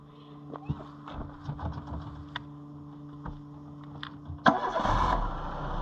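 A rebuilt Citroen Saxo engine cranks and fires at the end, its running roar loud and close after several seconds of quiet clicks and handling noises.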